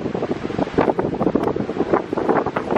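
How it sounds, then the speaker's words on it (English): Strong wind buffets an outdoor microphone as a group sets out for a walk, a steady rough roar with gusty swells that lasts throughout, with no speech over it. "that's too much wind blowing"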